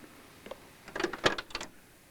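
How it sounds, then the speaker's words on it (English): A short mechanical sequence of clicks and a latch clack as the door of a 1967 Chevrolet Camaro SS 396 is opened, close and fairly quiet, with no talking. "Doors open beautifully"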